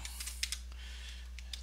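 Light key taps on a computer keyboard come in a few brief, quiet clusters over a low steady hum, with short pauses between.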